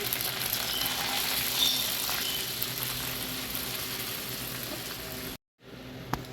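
Fried onion and garlic tempering poured over thin vegetable khichuri, giving a loud, steady hiss of sizzling oil close by that cuts off abruptly near the end.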